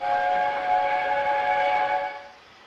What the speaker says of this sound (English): Whose whistle was that?